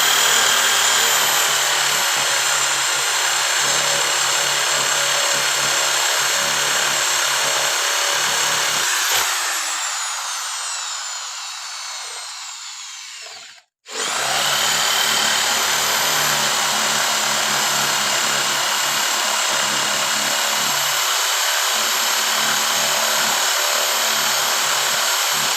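A power drill bores holes into the base of a small one-foot clay idol, a loud, steady high whine running close for most of the time, winding down briefly and cutting out before starting up again at full speed.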